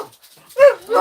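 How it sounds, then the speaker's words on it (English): Kobe the dog lets out two close, loud barks indoors, the first sharp and the second rising into a whiny yip, after a brief quiet start. "Shh, buddy, you're barking."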